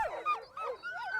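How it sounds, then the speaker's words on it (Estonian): Sled dogs being harnessed before the Iditarod race yelp and whimper in a rapid, excited chorus, several high calls overlapping close by with no talk. "Täna aitab Nicolal koeri rakendisse panna kauaaegne sõber Fabien."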